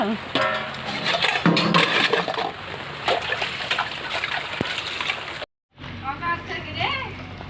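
Rain falls with watery splashing and gurgling outdoors, mixed with passing traffic and a car horn, while people talk over it; a brief dropout cuts in near the end.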